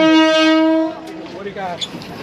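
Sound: train horn at Maeklong Railway Market, Thailand

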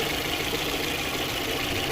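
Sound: VAZ-2110 car engine idling

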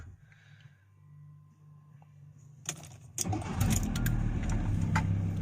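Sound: VW T4 Multivan engine starting

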